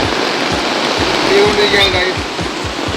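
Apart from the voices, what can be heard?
heavy pouring rain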